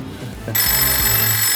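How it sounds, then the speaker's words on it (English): A telephone rings with a loud, bright electronic trill that starts abruptly and holds steady. "That's the phone."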